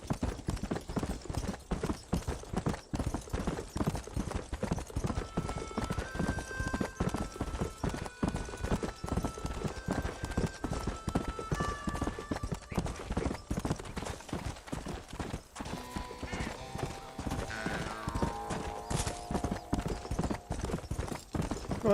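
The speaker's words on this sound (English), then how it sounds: "Well, that's a very beautiful stead." Horse hooves clip-clop steadily at a brisk, even rhythm in the Western game Red Dead Redemption, close and continuous throughout, with soft game music and faint ambient sounds underneath.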